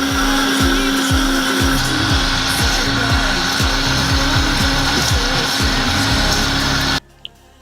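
A powerful high-speed blender grinds tough vegetables, running loud and steady with a rhythmic chopping pulse for about seven seconds before cutting off abruptly into near silence.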